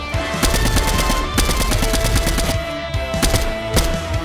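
Rapid automatic gunfire in Fortnite, loud dense bursts of shots with brief pauses between volleys, no voices.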